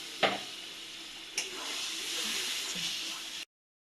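Fried masala for mutton curry hisses in a pan as sweetened water is poured in, with a sharp burst of sizzle, a second splash, then a steady fading hiss.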